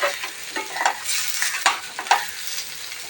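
Freshwater fish frying in a pan of oil gives a steady, close crackling sizzle, broken by a few sharper pops and light spoon touches.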